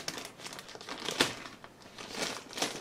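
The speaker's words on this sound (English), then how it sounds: "So this package arrived today. I know what it is, but I'll open it on screen." Packaging being handled and torn open nearby, with bursts of crinkling and crumpling plastic or paper in irregular rustles, one sharper tear in the middle, no talking.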